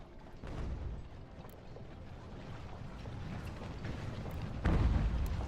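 Mortar artillery in Ultimate General: American Revolution, a low rumbling boom that builds, with a heavier thump near the end, over distant battle noise.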